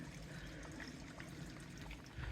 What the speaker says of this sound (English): Not much of a waterfall today